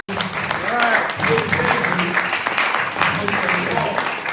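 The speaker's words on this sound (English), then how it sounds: "Give him a big round of applause." An audience applauds in a hall after a speaker is introduced. The clapping is dense and continuous, swelling and ebbing for several seconds, and voices talk over it.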